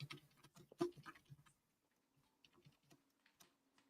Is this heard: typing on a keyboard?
yes